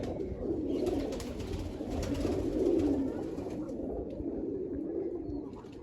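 Black pigeons coo continuously in low, throaty murmurs, several birds overlapping at close range, with no talking.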